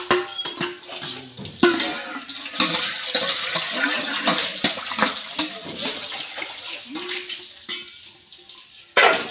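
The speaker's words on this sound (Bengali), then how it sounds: "রান্নাঘরে এসে দেখি মা বাসন ধুচ্ছে।" Dishes washed at a kitchen sink: tap water runs and splashes steadily, with repeated clinks and knocks of pots and utensils, close and continuous.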